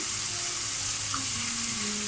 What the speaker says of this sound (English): we're going to whack some nice butter in now